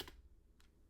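A computer keyboard being typed on for a brief entry, with a sharp keystroke at the start and another lighter click midway, close and quiet with no voices.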